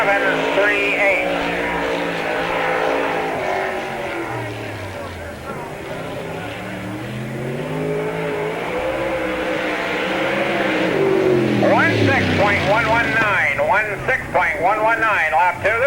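A dirt track race car, number 27, laps Spoon River Speedway during the 1998 Summer Nationals, its engine droning and shifting pitch throughout while an announcer talks loudly over it on the public address.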